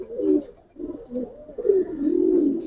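Giribaz pigeons on a rooftop pigeon farm in Old Dhaka give several close, throaty coos in quick succession, rising and falling with short pauses between, with no human voices.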